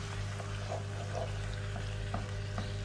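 A tomato puree and honey mixture for a beef lasagne being stirred in a pan, a steady low sizzle with soft scraping and bubbling, close and without talk.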